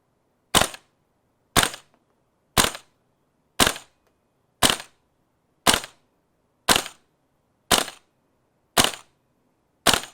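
Ten sharp airsoft gun shots fired one at a time into a chronograph, evenly spaced about a second apart, loud and close with silence between, testing a magnetic locking NPAS composite loading nozzle opened fully.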